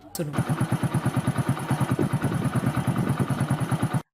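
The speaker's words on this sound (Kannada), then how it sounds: "ಇಲ್ಲಿ ಮೋಟಾರ್ ಸೈಕಲ್ ಶಬ್ದವನ್ನು ಕೇಳಿ" A motorcycle engine starts and runs at a steady pace nearby, with an even, rapid pulsing beat for about four seconds before it abruptly cuts off.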